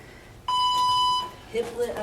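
A workout interval timer gives a single sustained electronic beep, steady and clear, lasting under a second during a strength and cardio class, followed by a person speaking right after it ends.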